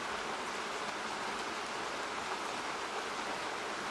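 Continuous rain ambience from an iPhone's background-sounds setting, a dense, even hiss of falling drops that holds at one steady level throughout, with no talking.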